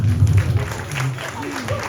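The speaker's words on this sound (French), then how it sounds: "On peut l'applaudir" Audience applause at an inauguration event in the 19th arrondissement, a steady patter of clapping from a crowd, moderately loud and continuous for two seconds with some voice mixed in.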